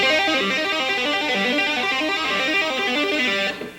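Rapid tapped electric guitar lick on the third string with a distorted tone, a quick repeating cycle of notes played steadily and loudly before cutting off.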